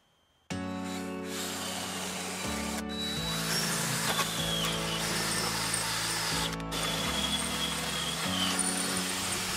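A power drill fitted with a number 6 bit bores out spot welds on a Vespa body panel, a steady loud whirring grind that shifts pitch as the bit bites and eases, with brief breaks and no talk.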